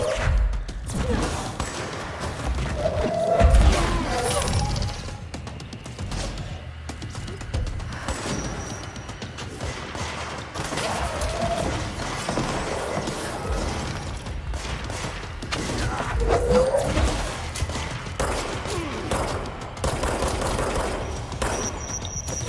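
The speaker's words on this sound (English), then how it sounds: "That is a lot of grenades." Grenade blasts in the video game Control pile up in a chaotic fight: a rapid run of heavy thuds and crackling explosions, loud and fairly close, with mechanical clatter and no clear talk over it.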